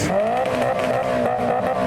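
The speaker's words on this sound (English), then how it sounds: "Mr. 2's revving" A Toyota MR2 revs at a car meet, its engine rising and holding in a loud, close, continuous blare with steady pitch sweeps and no voices.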